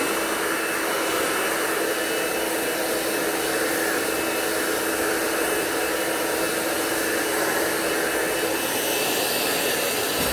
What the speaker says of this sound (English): Then I'm going to blow dry from the top.